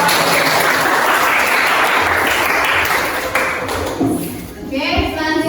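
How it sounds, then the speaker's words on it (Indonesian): A classroom audience at a student teaching-practice session gives a round of applause: loud, dense clapping for about three seconds, then it thins and fades into light taps while voices start talking. "Kasih tepuk tangan untuk"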